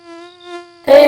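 A cartoon mosquito gives a thin, steady, high-pitched whine that wavers slightly for most of a second, then breaks into a louder, harsher burst at the end, heard alone without talk.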